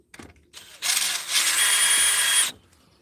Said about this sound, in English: let's drill this out right here.